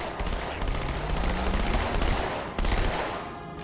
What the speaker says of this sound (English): the shotgun in this game doesn't have as much of a powerful shot as it did in the first game